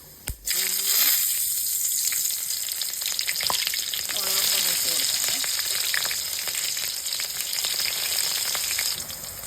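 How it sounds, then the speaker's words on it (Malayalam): Mustard seeds hit hot coconut oil for a cauliflower thoran, setting off a loud, close, continuous sizzle with sharp spluttering pops and stirring scrapes, heard without talk. "നമുക്ക് എണ്ണ ചൂടായി വന്നിട്ടുണ്ട്, അതിലേക്ക് ഇച്ചിരി കടുകിട്ട് കൊടുക്കാവേ"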